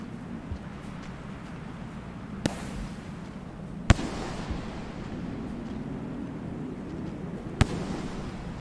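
Grenades going off in the video game Rain World: three sharp explosive cracks spaced several seconds apart, standing out over a constant low windy rumble, with no speech.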